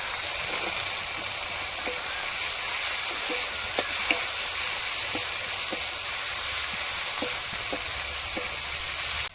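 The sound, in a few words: green chillies and chopped capsicum sizzling while sautéed in pan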